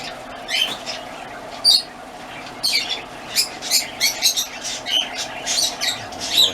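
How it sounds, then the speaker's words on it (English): Pet birds in a home kitchen chirp and squawk in the background, a run of short, bright, irregular calls over a low steady hum, fairly faint. "You hear our birds in the background."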